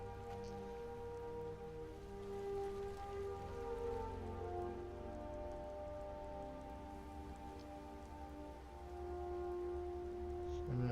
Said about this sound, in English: It is raining in the game currently.